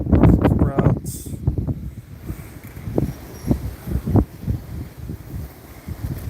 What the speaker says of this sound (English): Pretty windy today.